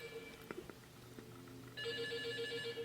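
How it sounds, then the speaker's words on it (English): Telephone ringing in a Five Nights at Freddy's fan game, set in an abandoned location and pitched down; a steady electronic ring grows louder partway through over a low ambient hum, with no talk. "we got a phone call."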